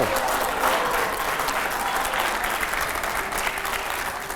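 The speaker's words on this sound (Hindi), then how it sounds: "जोरदार तालियां यहां पर" Loud, sustained applause from a studio audience at a Hindi political debate show, with dense clapping filling the whole stretch and a voice talking faintly underneath.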